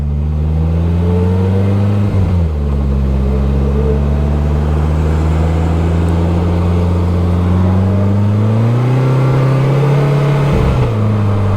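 A 2025 Polaris Slingshot with rear-wheel drive and a larger back wheel drives along, its engine humming loud and steady with a brief dip as it shifts, then rising again as it revs harder.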